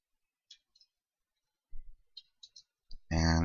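A handful of soft, sparse keyboard clicks in quiet, followed by a short burst of louder sound at the end.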